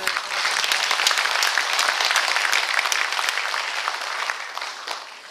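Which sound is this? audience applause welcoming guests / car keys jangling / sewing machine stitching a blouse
audience applause welcoming guests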